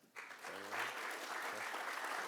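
Audience applause for event sponsors, steady clapping that starts abruptly and holds at an even level throughout, with a brief voice near the start.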